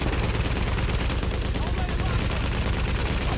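A deployed turret firing in The Division, dense rapid automatic gunfire rattling continuously and loudly for a few seconds, with voices mixed in.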